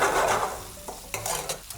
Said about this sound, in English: Let the onion and peppers caramelize.